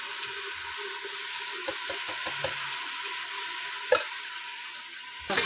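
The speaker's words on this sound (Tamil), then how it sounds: "போகிற வரைக்கும் நல்லா வதக்கணும். இந்த மாதிரி நல்லா தக்காளி வதங்கணும்." Ginger garlic paste and tomatoes are sautéed in a pan, giving a steady, moderate sizzling hiss broken by a few soft scrapes and knocks of stirring.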